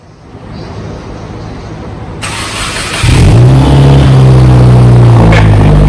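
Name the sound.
Toyota Supra with Tomei exhaust, cold engine start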